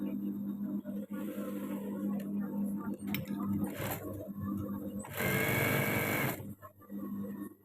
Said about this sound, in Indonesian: Kita jahit sampai yang ada tanda panah ini ya.